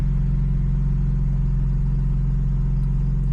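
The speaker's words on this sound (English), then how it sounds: "It still retains that like inline six sound" Steady, deep exhaust drone from a BMW G80 M3 LCI inline-six with secondary cat and resonator delete, in Sport Plus mode, heard close and loud as a constant low rumble.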